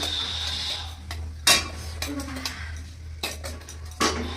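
Carrots go into a wok with meat for momo filling: a few sharp metallic clinks and scrapes of utensil against the pan over a low hum, with quiet gaps between.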